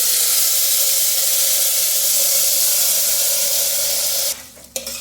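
Washed raw rice and moong dal sizzle as they roast in hot ghee, a steady loud frying hiss that drops off near the end with a brief stir and clatter.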